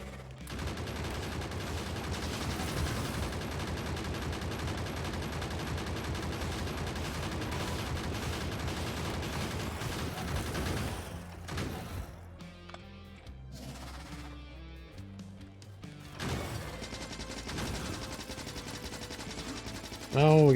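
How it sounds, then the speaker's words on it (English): Gun turrets in the video game Factorio fire at worms in dense, sustained rattling bursts that run continuously for about ten seconds, then thin out into scattered shots, with a player talking over the gunfire. "Now we can put out some fucking turrets."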